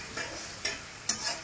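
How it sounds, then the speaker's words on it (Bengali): Onions fry for chicken paturi, with a soft sizzle under three quick scraping strokes of a spatula stirring the pan. "তো আমার চিকেন পেঁয়াজটা ভাজা হচ্ছে, আর একটু ভাজবো, লাল লাল একটু লাল করে ভাজবো"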